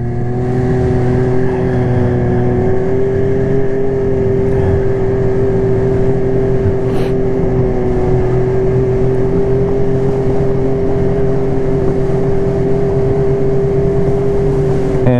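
A snowmobile engine runs steadily during a farm tour, a loud, close, droning hum with a constant pitch that holds throughout.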